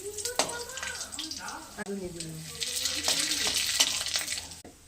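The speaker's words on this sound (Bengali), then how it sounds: "দুটো শুকনো লঙ্কা দিলাম ফোড়নে" Dried red chillies crackling in hot oil for a Bengali tempering, a steady close sizzle with spatter and stirring scrapes, while a voice talks over it throughout.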